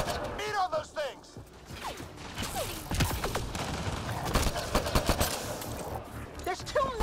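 Gunfire from Mass Effect: Andromeda crackles in bursts of sharp rapid shots mixed with clanking mechanical weapon noises and whooshing effects, under and between excited voices.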